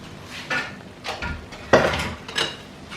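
Tinga chicken in chipotle sauce being stirred in a pot, with a spoon scraping and knocking against the pot in four or five separate strokes, close and moderately loud.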